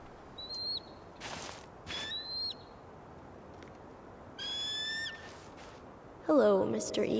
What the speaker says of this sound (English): Hello, Mr. Eagle